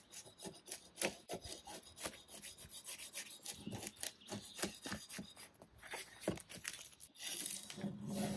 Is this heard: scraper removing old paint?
yes